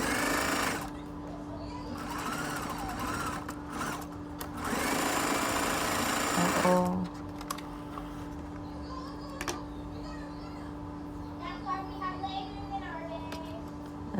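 A sewing machine stitches a lace frontal wig unit in steady, loud mechanical bursts that start and stop, with quieter stretches between runs as a person talks nearby.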